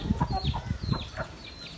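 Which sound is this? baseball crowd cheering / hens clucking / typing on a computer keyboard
hens clucking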